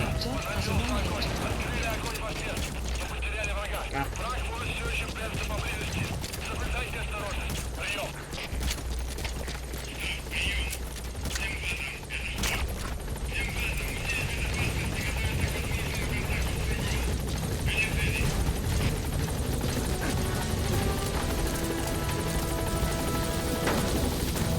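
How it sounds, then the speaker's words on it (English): A support helicopter in Metal Gear Solid V arrives at a landing zone, its steady rotor roar filling the background throughout, with radio chatter and in-game voices talking over it. "Support helicopter has arrived."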